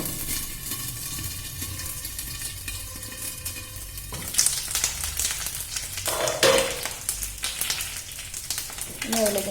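Chili and curry leaves hit hot oil after mustard seeds have popped, setting off a loud, crackling sizzle that swells midway and continues with bright spattering and stirring, close up.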